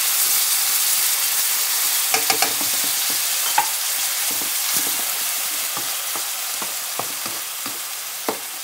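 Canned fish stir-fried with garlic in a dry pan, a loud continuous sizzle with scattered taps and scrapes of a spatula against the pan.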